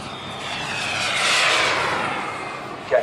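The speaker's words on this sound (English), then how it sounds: "Jet Cat P1, 160 engine on it." A high-pitched turbine whine from a model jet aircraft with a JetCat P160 engine swells as it flies past at an RC airshow, peaking midway, then fading into the distance.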